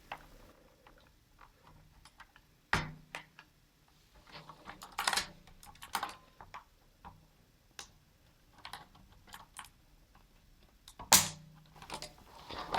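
Sharp plastic clicks and snaps as chassis clips are pried open on a Ducky ONE mechanical keyboard, scattered irregular ticks with a few louder pops near the start and end, close and quiet with no voices.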